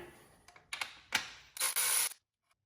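A hand ratchet clicks in short bursts while loosening valve cover fasteners on a BMW E46, several brief ratcheting passes followed by a longer, louder run, close and quiet in a still garage.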